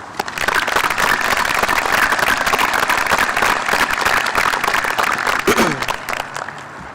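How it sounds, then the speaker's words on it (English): A high school graduation audience applauds for parents with sustained, loud clapping and scattered sharp claps, with a brief vocal whoop near the end. "I ask that we give them the applause they deserve."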